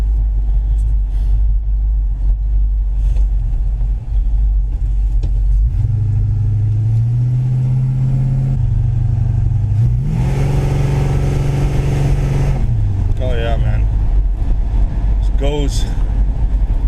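A 1957 Chevy Bel Air driving, a loud, constant engine rumble from inside the car that swells into a revving climb midway and then settles, with people talking over it.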